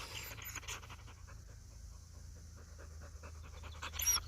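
A dog pants steadily on a walk after heavy ball chasing, quick rhythmic breaths close by over low outdoor rumble, with a brief louder burst near the end.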